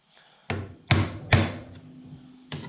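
Four sharp, hard taps of a woodworking chisel struck against parts being removed during a Jaguar independent rear suspension rebuild, irregularly spaced and close, each with a short ringing decay, in a quiet workshop.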